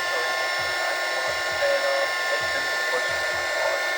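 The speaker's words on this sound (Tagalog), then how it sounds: "Ginamitan pa natin siya ng blower na may hot air para bilis natin matanggalan." A hot air blower runs steadily while heating a Vivo Y11 phone's LCD for removal, a constant close whooshing hiss with a faint high whine and low fluttering under it, with no one talking.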